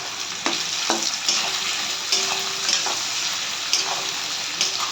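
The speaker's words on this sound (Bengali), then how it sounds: "তেলে, পেঁয়াজটা যাতে ভেজে নিতে হবে।" Onions frying in oil with salt, a constant bright sizzle broken by regular spoon stirs and scrapes against the pan, close and fairly loud.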